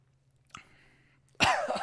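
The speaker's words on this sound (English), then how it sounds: "I take that back after that cough" A single harsh, close cough bursts out after a faint throat sound, loud and brief at the end, from someone sipping a hot drink on a freezing day.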